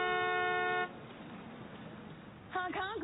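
A party limo's car horn gives one steady, loud blast lasting under a second. Brief noise follows, and a voice starts speaking near the end.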